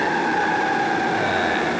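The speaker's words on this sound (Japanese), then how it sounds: "電車に乗ってイントラムロスへ向かうことにしました。" A train ride on Manila's rail line, with a steady interior hum and rumbling carriage noise and a sustained tonal whine running throughout, no talking.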